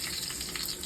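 Spinach and moong dal frying together in a pan, a brief, dense and steady sizzle heard up close with no voices.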